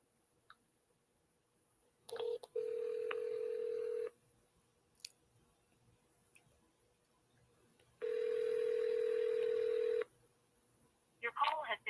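Two long steady telephone dialing tones, each lasting about two seconds, sound while a call is being placed. Short clicks come between them and a brief voice is heard near the end.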